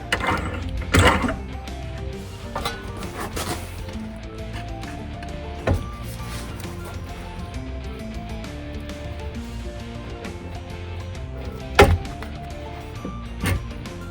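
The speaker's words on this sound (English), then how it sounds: "it is harder to follow a straight line on the English wheel than you would think" An English wheel rolls a steel patch panel back and forth to shape a Mustang rocker panel, producing a continuous grinding, rumbling mechanical sound punctuated by occasional clanks and knocks in a workshop.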